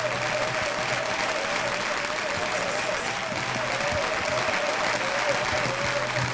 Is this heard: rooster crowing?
no